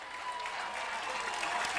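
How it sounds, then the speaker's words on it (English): Applause and clapping from the crowd at a high school football game between Liberty Center and Montpelier, a steady distant patter with a faint voice underneath. "Paul Smith's clapping his hands."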